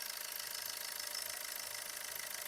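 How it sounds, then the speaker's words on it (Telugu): A 2017 Maruti Suzuki Ertiga ZDI+ diesel engine idles at steady speed, giving a quiet, even, continuous rumble with a smooth hiss and no voices over it. "ఇంజిన్ బీటింగ్ కూడా స్మూత్గా ఉందండి."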